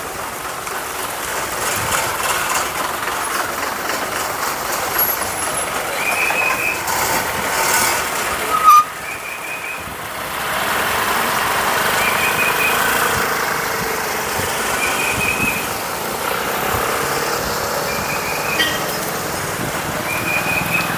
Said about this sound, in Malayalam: ബസ് വളച്ച് നല്ല രസമുണ്ട്, കാണാൻ കൊള്ളാം